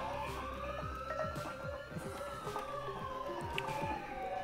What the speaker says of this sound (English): Am I the only person who's getting really annoyed by the cops' sirens?